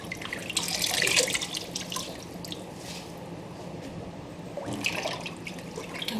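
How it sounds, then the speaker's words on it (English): Water runs from a kitchen sink faucet to refill a basin for washing mustard and collard greens, a steady splashing flow that swells and eases, close by and without talk. "let the water out and fill it up again."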